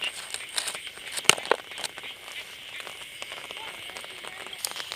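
Rain falling outdoors in a rural Thai setting near a water-filled pond, a faint steady patter with a few sharp drip crackles, under quiet ambient noise.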